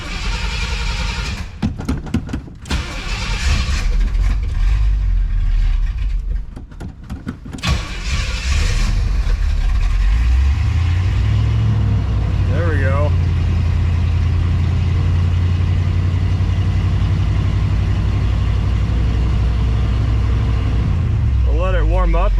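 A 1980 Pontiac Trans Am with a swapped-in 400 engine starts up and settles into a loud, steady grumbling idle with a muffler rumble, after earlier clatter and voices talking nearby.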